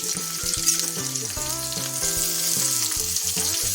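Chopped onions for soya balls fry in a hot pan, giving a loud, dense, continuous sizzle close up with faint utensil scrapes and no voices.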